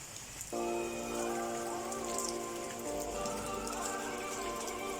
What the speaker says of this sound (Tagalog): ako'y maliligo na ngayon sa ulan